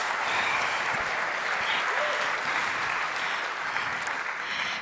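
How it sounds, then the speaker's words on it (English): A conference audience breaks into sustained applause, a dense, steady wash of clapping from many hands that holds at an even level throughout. "You can clap if you want."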